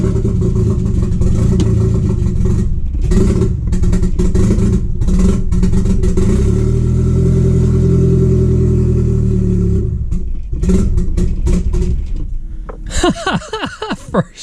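A Nissan SR20DET engine starting for the first time after sitting a long while, cranking and catching into a loud, rough, uneven run that struggles to idle, then sputtering and dying toward the end.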